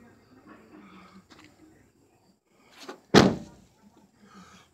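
A Lamborghini-style scissor door on a mini truck swings shut with one loud, close thud, preceded by a faint creak and a few soft handling noises.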